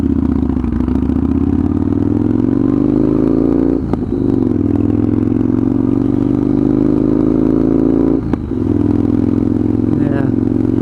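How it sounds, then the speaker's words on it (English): A straight-piped motorcycle cruising at low RPM gives a loud, deep, steady exhaust drone close to the microphone, with two brief dips as the throttle eases off and back on. "it's loud enough and it pulls hard enough in the low RPMs that even just kind of easing into it feels nice"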